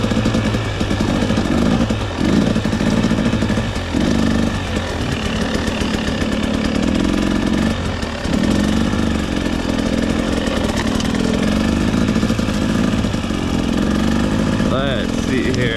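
A dirt bike engine runs steadily in third gear on a trail, loud and close throughout with small shifts in pitch, and a rider talks over it.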